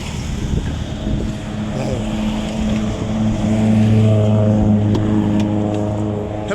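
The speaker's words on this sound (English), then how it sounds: "There's a lot of cars passing through here." Steady traffic on steep Marcos Highway at sunrise, with cars passing through continuously; a sustained engine and road roar fills the clip, swelling slightly midway, with wind buffeting the microphone and no talk.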